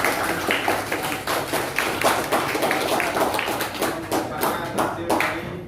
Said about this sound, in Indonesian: Kita berikan aplaus dulu untuk